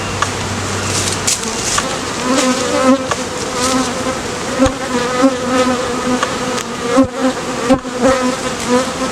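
Honey bees swarm and drone inside an open hive box being worked over with a fumigant rag, a dense, steady, close-up buzz that swells and flickers continuously with no voices over it.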